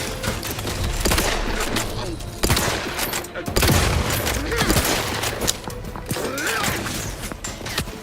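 Grenade blast and gunfire in a video game, dense crackling shots and rumbling bursts packed into a loud continuous battle din, with voices calling out over it.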